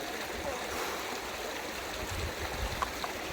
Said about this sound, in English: At the stream. So I'm going to fill up with some water.